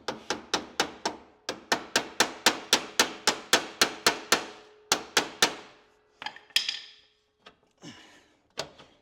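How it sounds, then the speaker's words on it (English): Sharp, rapid hammer taps on the edges of a John Deere D140-series riding mower transmission drive part, a steady metallic run of about twenty strikes that slows into a few scattered knocks and scrapes, close and clear with no talking. "you can use the hammer, tap the edges a little bit"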